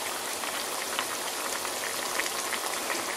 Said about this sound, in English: And we got that right there simmering in that pot right there.